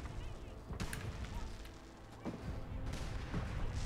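Fireworks bursting in Fallout 4, a series of booming pops and crackles at varying distance over a busy game soundscape, with speech-like sounds mixed in.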